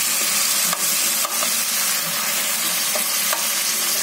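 Garlic fries in hot oil alongside salt-stuffed green chillies, giving a loud, continuous sizzle and crackle close up, broken by a few clicks of stirring.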